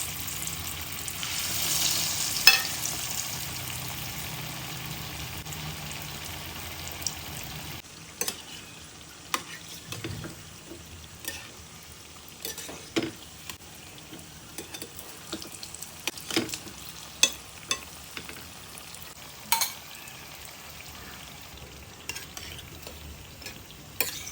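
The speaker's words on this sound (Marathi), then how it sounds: "आता मी टिक्की तळायला घेणार आहे। तेलामध्ये तळून घ्यायचे आहेत गोल्डन कलरवरती" Paneer cheese tikki frying in oil over a medium flame make a soft continuous sizzle, with scattered clinks and taps of a utensil and brief bursts of crackle along the way.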